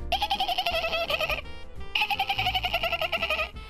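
A person's voice mimics a leaf bug, giving two long runs of high, squeaky, warbling chirps separated by a brief pause, close and fairly loud.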